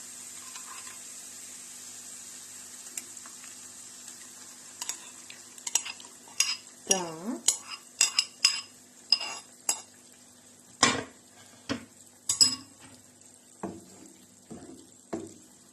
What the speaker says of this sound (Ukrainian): додаємо сюди сметано чесниковий соус